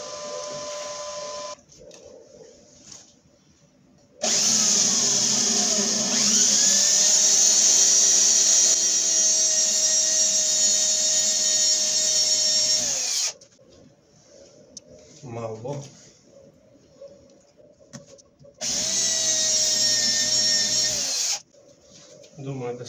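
A power drill bores into bolts in a garage, whining in two long bursts, the first about nine seconds and the second shorter, with quieter handling noises and brief clicks between them.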